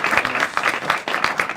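An audience claps at a university book presentation on disability, with a brief burst of dense, lively applause throughout.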